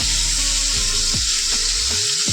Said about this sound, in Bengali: অল্প সময়ের মধ্যে চিংড়ি মাছ ভাজা হয়ে যায়